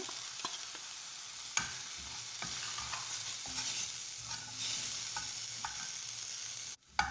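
A spiced vegetable cutlet mixture is stirred in a pan, giving a soft, low hiss of frying with scattered scraping strokes and a few sharp utensil knocks, fairly quiet throughout.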